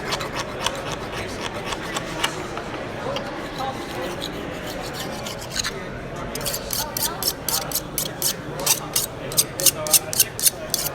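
Butter knife being sharpened on tungsten carbide at a prepper show, a steady rasping scrape that turns into a run of quick, regular strokes toward the end, with crowd chatter underneath.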